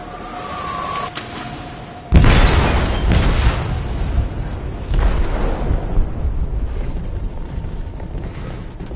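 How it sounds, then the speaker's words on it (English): A loud explosive blast detonates in a ship's hold in the video game Detroit Become Human, striking suddenly after a quiet tone and rolling into a long, rumbling roar and churning debris that fades slowly. "They detonated an explosive in the hold"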